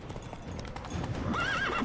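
Roach the horse in The Witcher 3: Wild Hunt galloping, with rapid hoofbeats close by and a whinnying neigh rising over them in the second half.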